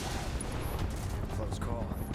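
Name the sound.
gunfire in video game Final Fantasy VII Remake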